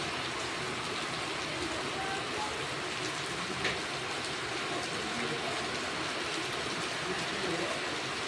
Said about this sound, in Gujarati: ફૂલ વરસાદ